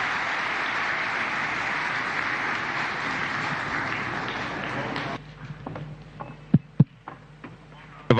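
Steady applause from a seated audience honouring His Excellency at a public ceremony, loud and dense for about five seconds before dropping away to a few scattered claps and room noise.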